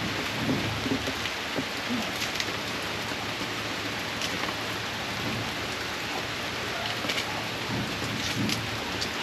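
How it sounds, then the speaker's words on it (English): Steady rain pours down outdoors in the Philippines in a constant dense hiss with some low rumbling beneath, no voices heard. "And it's raining."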